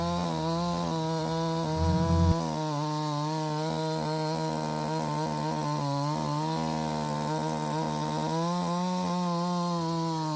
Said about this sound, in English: this saw just rips these beautiful fluffy chips right out